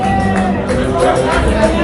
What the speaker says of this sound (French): Allez, applaudissez pour ce soir